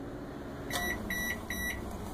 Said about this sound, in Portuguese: E a gente vai levar pro micro-ondas até um minuto.